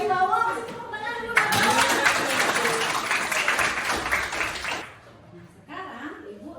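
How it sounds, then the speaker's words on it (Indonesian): Schoolchildren in an Indonesian classroom clap their hands together in a dense burst of applause for several seconds, with voices talking and laughing around it before and after. "Tepuk tangan dulu."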